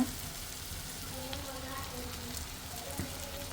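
Eggs, onions and potatoes fry in a pan with a soft, steady sizzle and light crackle, faint and continuous throughout.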